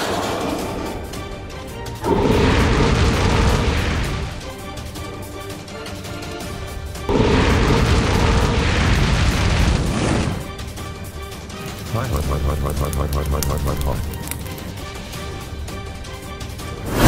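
Missile explosions in a comedic Christmas family scene: three long, loud roaring blasts of a few seconds each, the last with a rapid rattling crackle, separated by quieter rumbling gaps.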